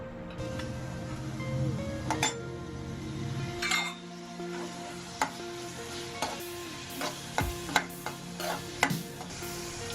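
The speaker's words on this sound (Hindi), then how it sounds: "अब मैं तेल डालूंगी और भूनूंगी इसे।" Chopped onions fry in oil for paneer bhurji, a soft sizzle under repeated stirring scrapes and metallic clinks of a spoon against the pan, close and moderately quiet with irregular taps toward the end.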